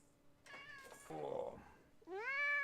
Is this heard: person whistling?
no